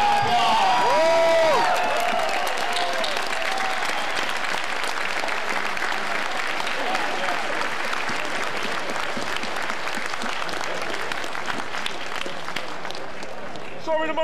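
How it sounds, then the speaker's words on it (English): A crowd at the Libertarian Party Convention in 2016 breaks into loud, sustained applause with cheering and a few whoops after an auction sale, the clapping steady and dense from start to finish, with some voices mixed in. "Give him a round of applause."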